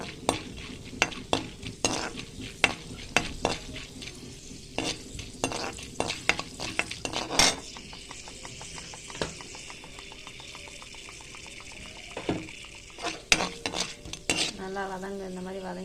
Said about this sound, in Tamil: கொஞ்சம் கடலைப்பருப்பு நல்லா பொரியட்டும்